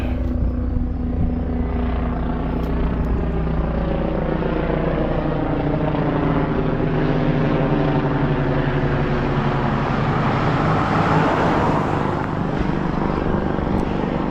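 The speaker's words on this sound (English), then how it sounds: "We've got Life Flight coming in." A Life Flight medical helicopter flies in over a Maine roadside at dusk, its steady rotor drone and engine whine continuous and moderately loud throughout, swelling slightly as it passes.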